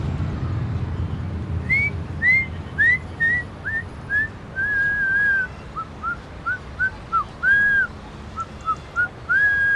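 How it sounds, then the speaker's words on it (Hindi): A man whistles a tune in a scene from the Urdu drama The Revenge: a string of short, rising chirpy notes, then longer held ones, carried over steady low background noise. "फरमाइश पर भी सीटी बजाओगे क्या?"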